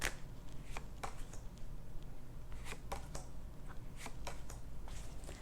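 A tarot card deck is shuffled and handled up close, making soft riffling slaps and crisp card snaps in uneven bursts over a low background hum.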